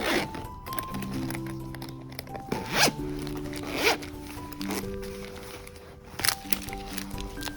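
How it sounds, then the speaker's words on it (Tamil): The first zipper on a crochet kit pouch is pulled open in several short, scratchy bursts, with some handling rustle between pulls, close up and with no talking. "இப்போ ஃபஸ்ட்டு ஜிப் ஓப்பன் பண்ணலாம்"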